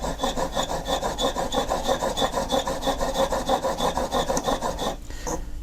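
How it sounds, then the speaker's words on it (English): Rhythmic rasping of a graver face rubbed back and forth on a coarse sharpening stone while held in a sharpening fixture, steady close strokes about twice a second that stop near the end. "I'll take the coarse stone and holding the fixture like so, I'll rub the face."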